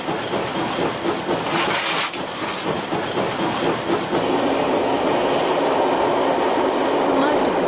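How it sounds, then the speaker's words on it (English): A steam locomotive on a 1987 State Rail Authority excursion train to Gloucester runs loudly and close, its hissing steam and rhythmic chuffing over rattling carriages, with people talking in the background. "The unusual sounds and rhythms of the steam locomotive"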